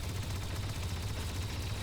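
Rapid blaster gunfire in the video game Star Wars Battlefront 2 rattles continuously in quick repeating bursts, loud and close for the full two seconds.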